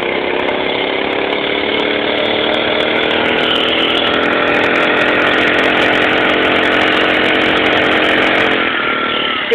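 Titan front-wheel-drive buggy bike with a CVT, its small engine droning steadily and loudly throughout while riding, a buzzy sustained tone with slight pitch shifts and no speech.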